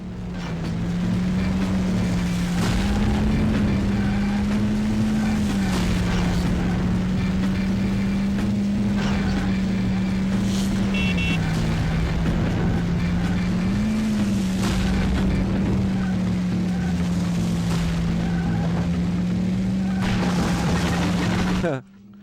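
Engine drone of a Volkswagen New Beetle in the 1999 N64 racing game Beetle Adventure Racing, a steady buzzing tone that rises and dips slightly with throttle over continuous game noise and occasional effects.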